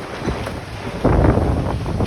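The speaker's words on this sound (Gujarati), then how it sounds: "પવન જોરદાર છે તો" Strong wind on a mountain at Saptashrungi buffets the microphone in a loud, roaring rush that swells sharply halfway through, with no voices heard.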